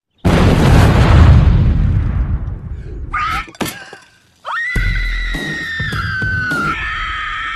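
A loud, close explosion from the film Final Destination 2 bursts out and rumbles away into crackling debris, followed by shrill screams and a sustained high-pitched cry.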